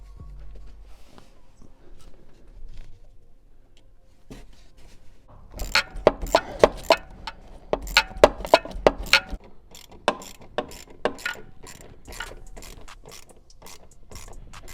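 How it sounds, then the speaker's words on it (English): Ratchet tightening a hose clamp on the intake of a BMW M340i with a B58 engine, with rapid close clicking bursts after a quiet start, pausing and resuming in short runs. "Now we need to tighten up our other clamp."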